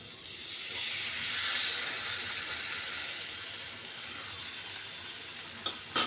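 Poppy seeds sizzle in a hot pan with fried spices for aloo posto, a steady hissing fry with stirring scrapes, close and fairly loud, and a couple of sharp clinks near the end.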